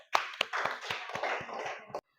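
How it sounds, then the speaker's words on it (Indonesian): A classroom of children gives a short burst of hand clapping for a group just scored in an Islamic religious studies lesson, sharp claps ringing quickly together for about two seconds before stopping abruptly. "Tepuk tangan."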